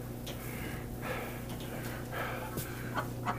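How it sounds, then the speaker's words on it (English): Ducklings on a barn floor, a continuous chorus of peeps and chirps from many birds close by over a steady low hum. "A floor full of ducklings."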